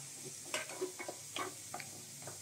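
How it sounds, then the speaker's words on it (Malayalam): Onions and two green chillies being stirred and sautéed in a pan for a green peas egg masala, with a faint steady sizzle and a few soft spoon scrapes and taps, no talking. "ഇതിങ്ങനെ ഇളക്കി നമ്മളിങ്ങനെ വഴറ്റിയെടുക്കാം."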